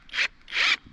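Screws driven into a wooden 4x4 post for a pallet and 2x6 arbor: two short, loud bursts of screwdriver or drill whir with a ratcheting grind, close up, separated by a brief pause.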